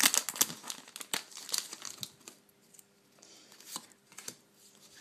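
Pokémon XY Megator Tank booster pack foil being crinkled and torn open by hand, close and crisp, with bursts of crackling early on that settle into softer, sparser rustling and a few later crinkles.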